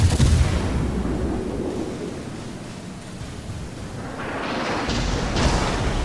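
Naval gunfire from an enemy destroyer in World of Warships rumbles as a deep, sustained boom, fading then swelling again, with a hissing wash of noise toward the end.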